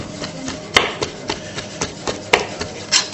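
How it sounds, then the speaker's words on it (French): A knife finely slices squid on a cutting board, giving soft, irregular chopping taps at close range, with a few sharper knocks standing out. "le calamar pareil, émincé finement"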